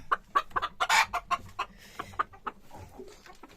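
Egg-laying chickens cluck close by in a quick irregular series of short sharp calls, one louder squawk standing out among them.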